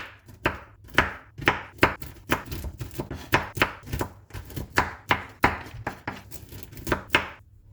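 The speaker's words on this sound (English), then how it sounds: "I'm setting aside 1 or 2 walnuts for garnish later, then roughly chopping them" A knife roughly chopping walnuts on a cutting board, with quick, irregular bursts of sharp, close taps and thuds repeating steadily, no voices.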